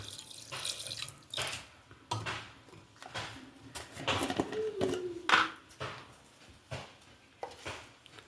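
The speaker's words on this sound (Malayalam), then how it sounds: "വെള്ളം ഒഴിക്കണം" Tap water pouring into a pot in a home kitchen while making mambazha pulisheri, a mango curry, heard as several short bursts and splashes at close range with pauses between them and no talk.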